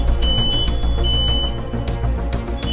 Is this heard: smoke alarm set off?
yes